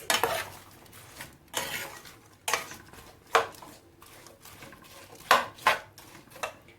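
Spices, cinnamon and salt, stirred into a cooking pot for chicken korma, a spoon scraping and knocking against the metal in about seven separate strokes, close and clear with no talking.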